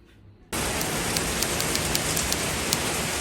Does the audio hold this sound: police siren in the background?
no